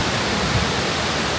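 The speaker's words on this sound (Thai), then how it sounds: "ได้ยินเสียงน้ำตกไหมครับผม" A waterfall rushes in a steady, loud broadband hiss with no breaks, heard close and alone.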